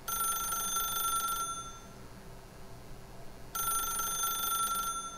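A bright telephone bell in The Stanley Parable trills in two separate bursts, one at the start and another after a quiet gap of about two seconds, clear and close with no talk.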